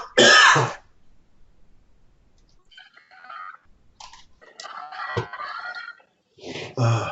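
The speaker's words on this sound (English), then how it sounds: "Excuse me while I cough." Someone in a live online class session gives a sudden loud cough and throat clear, followed by softer throat and mouth noises in an otherwise quiet room.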